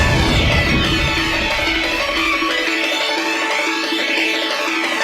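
Sonic Unleashed soundtrack music run through a video game boost filter effect, a loud, dense, smeared wash of sound that stays constant and steady, with no voices.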